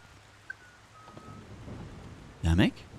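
A sharp thunderclap rumbles loudly over steady rain in the Splinter Cell: Pandora Tomorrow video game. It comes near the end of the clip after a quieter stretch of rain and soft tones.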